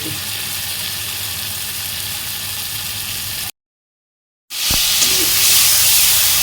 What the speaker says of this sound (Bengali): এবার মাছের ডিমের বড়াগুলো সাজিয়ে দেবো